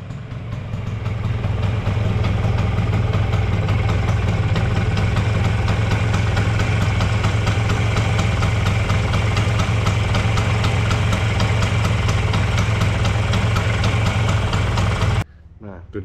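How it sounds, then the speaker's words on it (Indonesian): A fully reconditioned, restored Vespa Super scooter engine idling close by, a smooth, steady, loud low chug held evenly for about fifteen seconds before cutting off abruptly. "saya kasih denger suara mesin Vespa Super ini ya"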